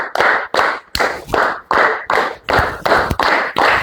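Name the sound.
children clapping hands five, three times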